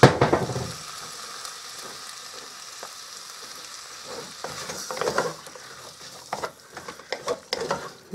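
Pinto beans sizzle in a hot pan as a spoon stirs them, a continuous frying hiss broken by scraping stirs and a few sharper clatters toward the end, heard close with no talking.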